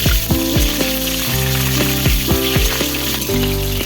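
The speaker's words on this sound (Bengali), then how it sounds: "ফুলকপিগুলোকে এক থেকে দুই মিনিট ধরে গ্যাস মিডিয়াম ফ্লেমে রেখে ভেজে নেব" Cauliflower florets frying in hot oil over a medium gas flame give a steady, close sizzle, with tonal background music running underneath throughout.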